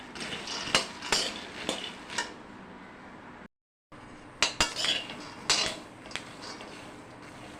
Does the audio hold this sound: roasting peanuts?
yes